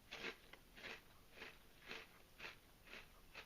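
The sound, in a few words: crunching barbecue potato popper chips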